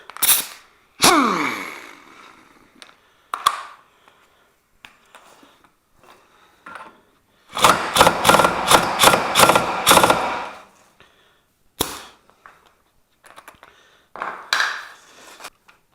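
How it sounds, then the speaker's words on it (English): An impact wrench hammering on a MINI Cooper axle nut during wheel bearing replacement: a loud, rapid rattling burst of about three seconds, plus scattered metallic clanks and clicks separated by silence. "I'll hit it a little bit with the impact wrench"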